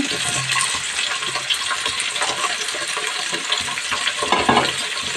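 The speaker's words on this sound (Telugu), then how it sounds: "కలుపుదామండి వచ్చేసి కొంచెం కలుపుదాము" Mint rice with coriander and tomatoes is stirred in a hot pan: a dense, continuous sizzle with gritty scraping strokes and small clinks, close and fairly loud, with no talking.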